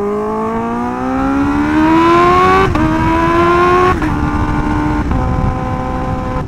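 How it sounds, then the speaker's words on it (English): A heavily modified Kawasaki Ninja H2R motorcycle engine revs hard and close, its loud rising whine climbing through several pulls with sharp gear-change breaks, steady and unaccompanied. "This bike is so loud."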